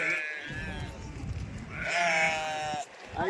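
A flock of sheep on the high mountain trail to Amarnath bleats in long, wavering cries, several voices overlapping nearby, with a person talking in between.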